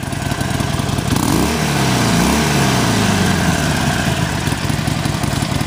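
A 2019 Harley-Davidson XL 1200X Sportster Forty-Eight V-twin idles loudly up close, its lumpy low rumble rising briefly in a throttle blip before settling back into a steady, uneven idle.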